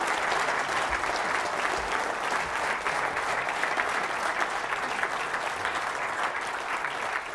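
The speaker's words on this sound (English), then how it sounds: "first a round of applause for outstanding presentation" Sustained audience applause following a presentation by Ranulph Fiennes, a full, even roar of many hands clapping in a hall, steady and unbroken with no talk over it.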